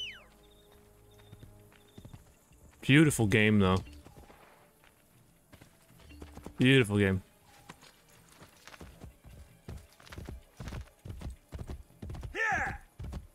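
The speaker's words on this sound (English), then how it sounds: "I'm gonna call my horse." Hooves clip-clop steadily from a summoned horse in the Assassin's Creed Brotherhood video game, a run of regular thuds through the second half, with someone talking over the earlier part.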